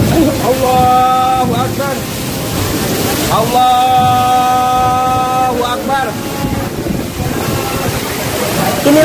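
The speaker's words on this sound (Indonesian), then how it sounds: "merekam detik-detik terjadinya hujan badai atau hujan yang disertai angin kencang dan petir di komplek perkantoran Pemda Kabupaten Bogor" A violent storm with heavy rain and strong wind hits the Bogor Regency government office complex. A loud, continuous roar of wind and rain is heard while voices shout repeatedly over it.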